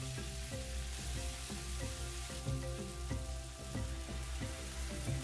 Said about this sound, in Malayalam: നമുക്ക് ഇതിലേക്ക് കുറച്ച് വെള്ളവും കൂടെ ചേർത്ത് കൊടുക്കാം.